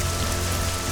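Rain in the Nehrim fantasy role-playing game, a dense, steady hiss of falling rain pattering on surfaces, loud and unbroken throughout with no voices.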